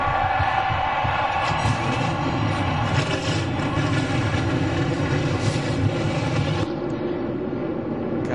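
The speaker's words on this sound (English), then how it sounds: "Gentlemen, start your engines." NASCAR race cars fire their engines together at a 2004 O'Reilly 300 stock car race, a dense, loud, continuous roar over crowd noise that drops away slightly near the end.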